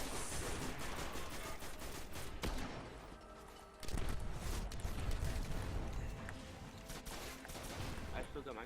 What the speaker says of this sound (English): these guns that shoot fast are great, but man, they burn through ammo